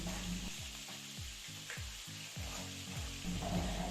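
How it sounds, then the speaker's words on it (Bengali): Potatoes and chopped tomato sizzle in a pan with a constant close hiss, overlaid by a row of low rhythmic knocks like a spatula or an extractor fan, and no talking. "আলু টমেটো ভাজা হয়ে গেছে"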